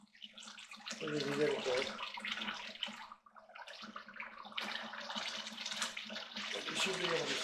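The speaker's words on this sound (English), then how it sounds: "So I squirt it out of this pan right here." Water squirts and splashes from a gold-panning pan holding fine gold flakes, two bursts of watery spray with a brief pause between them while someone talks.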